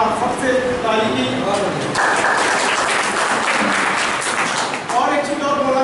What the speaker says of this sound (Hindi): इस काम के लिए एक बार आप सबसे ताली की।